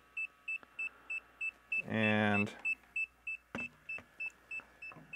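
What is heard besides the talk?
FPV goggles beeping in bind mode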